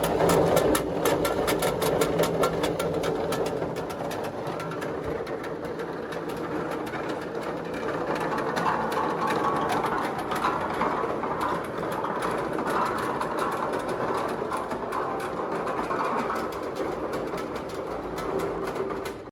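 Golf ball processing machine running steadily in a workshop, a loud continuous mechanical whirr and rattle with dense rhythmic clatter throughout, no talk over it.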